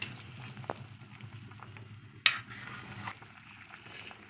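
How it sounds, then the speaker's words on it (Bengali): Meat curry gravy bubbling in a kadai after the lid comes off: a steady close simmering hiss with soft pops, a sharper clatter partway through, then the bubbling carries on alone. "এই ঝোলটা ফুটে এসেছে।"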